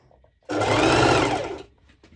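A sewing machine stitches one-piece Elsa-style pole dance bottoms with a net overlay, attaching the piece to the waistband. It sounds as a single loud, steady run of about a second and a quarter, close by and alone.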